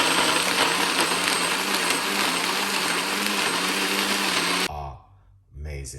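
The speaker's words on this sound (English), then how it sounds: "So now what we're gonna do is blend." Countertop blender whirring loud and steady as it blends a drink, then cutting off abruptly near the end, followed by a brief low clunk and a quieter tail.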